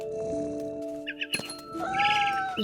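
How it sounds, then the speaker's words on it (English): Cat sounds in the video game What Remains of Edith Finch: faint ambience, then a couple of short chirpy meows followed by a longer, rising meow, soft and fairly close. "I can also hear purring."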